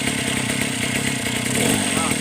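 A Mitsubishi TU43 brush cutter engine runs steadily and close, with a dense buzzing drone and no change in pitch through the short stretch.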